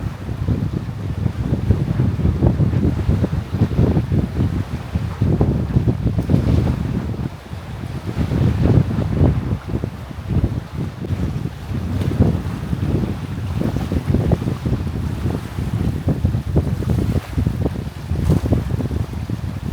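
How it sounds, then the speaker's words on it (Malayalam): Ocean waves surge and wash continuously under strong gusting wind, a loud, rumbling, steady roar with repeated swells rising and falling and no voices. "നല്ല സൗണ്ടാണ് തിരമാലകളുടെ"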